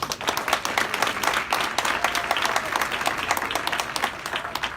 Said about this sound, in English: Renee, big round of applause.